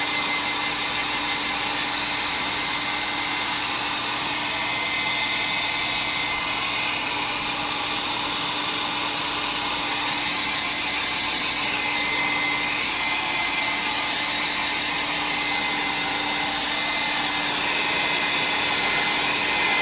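A hair dryer blows steadily at close range to dry layers of paint on an art project, a loud, continuous whooshing drone that holds constant and unbroken.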